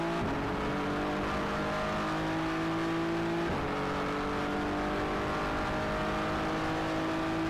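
A GT3 race car engine recorded from an onboard camera down a straight, with a steady, loud, high drone that climbs in pitch, drops at a gear change near the middle, then climbs again. The sound is harsh and a little distorted, with no talking.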